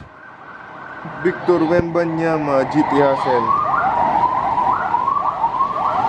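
An ambulance siren wails in rising and falling sweeps, loud and close, mixed under a rapped vocal and a music backing.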